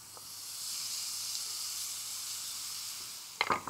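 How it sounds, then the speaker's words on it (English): Fatty lamb frying in a pan: a bright, steady hiss that builds and holds for several seconds, ending with a short burst of crackling and spatter as the meat is moved, close and alone. "we'll just break it up with our fingers and cook this down until it just starts to"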